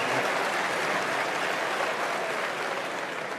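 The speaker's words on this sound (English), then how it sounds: "I hope you're applauding" A crowd at the 1994 Berkshire Hathaway annual meeting claps in a dense, even wash of applause that holds steady and fills the whole stretch, with no voices over it.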